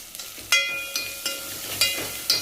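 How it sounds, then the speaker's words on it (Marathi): Homemade masala with turmeric roasting in a pan, soft sizzling broken by repeated sharp scrapes and clinks of a spoon stirring every half second or so, no voices. "आता आपला मसाला भाजला आहे."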